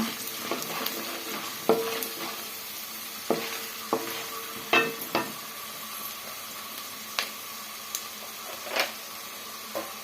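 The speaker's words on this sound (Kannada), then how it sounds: "ಕಡಲೆಬೇಳೆ ಸೇರಿಸ್ಕೊಳ್ಳೋಣ. ಉದ್ದಿನಬೇಳೆನೂ ಸೇರಿಸ್ಕೊಳ್ಳೋಣ. ಎಲ್ಲ ಸೇರಿಸ್ಕೊಂಡು ಈ ಥರ ನೀಟಾಗಿ ಫ್ರೈ ಮಾಡ್ಕೊಳ್ಳೋಣ." Chana dal and urad dal fry together in a pan for avalakki bath, giving a low continuous sizzle with occasional sharp stirring clicks and scrapes, and no voices.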